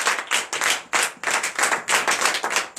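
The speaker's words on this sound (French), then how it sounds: "Donnez l'acclamation au Seigneur." A church congregation claps hard and fast in rhythm, the bursts loud and close, with no talking underneath.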